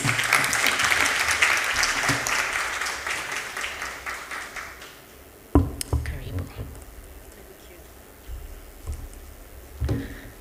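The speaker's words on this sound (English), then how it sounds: "Let's give her a warm round of applause." A summit audience at a food systems event gives warm applause that starts loud and gradually tapers off, followed by a quieter stretch with soft murmuring, a few stray claps and handling bumps.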